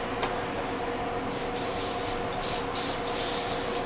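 Cooking spray hisses in several short bursts over cast iron cookware being seasoned, close and fairly loud above a steady low background rumble.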